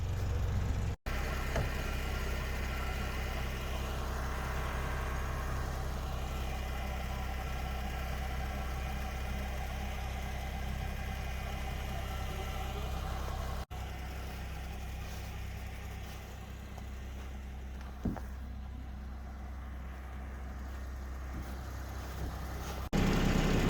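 Tractor with a front end loader idles steadily nearby while moving a shed on skids on a homestead, a low continuous engine drone with a couple of faint knocks and little change in level.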